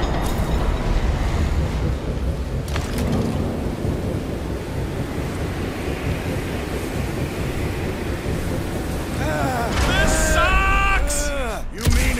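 Strong, steady wind roars and gusts throughout in Marvel's Guardians of the Galaxy, with a brief whooshing swell and some tonal squeals near the end.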